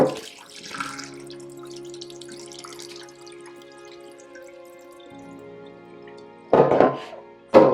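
Tap water runs into a bowl of pinto beans being rinsed, a steady trickle with faint clinks, ending in two louder splashing bursts near the end.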